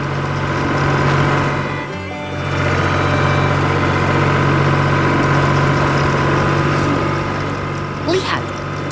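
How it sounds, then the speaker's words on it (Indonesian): An animated farm scene with tractors, a blue truck and farm machinery, their engines idling with a steady, loud low rumble that dips briefly before resuming. "Lihat, truk biru dan mesin pertanian bekerja keras di pertanian yang hidup."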